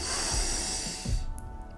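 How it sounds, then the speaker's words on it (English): A person draws a slow breath in through the nose during a guided breathing exercise, a soft close airy hiss that then drops away into quiet. "Continue breathing on your own rhythm through the nose, inhaling"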